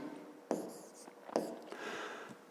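A pen scratches across paper while a fifth-grade geometry exercise is written out by hand, giving a few short close strokes and taps that are quiet and brief, with no talk.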